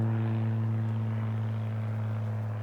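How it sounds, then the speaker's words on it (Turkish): An airplane passes overhead while pigeons are being flown outdoors, giving a steady, droning engine hum with strong low tones that holds throughout. "Tam kuş uçuruyoruz uçak geliyor."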